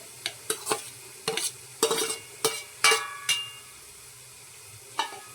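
A spatula scrapes and clatters against a pan in quick, irregular strokes over a faint sizzle of a paste frying in hot oil with onions, with quiet gaps between strokes.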